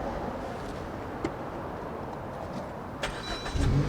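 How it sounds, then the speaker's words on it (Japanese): A yellow Suzuki Swift Sport ZC33S with a manual gearbox is started, giving a brief cranking catch that settles into an engine note against steady background noise. "エンジンもかけちゃうね。"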